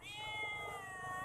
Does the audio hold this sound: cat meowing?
yes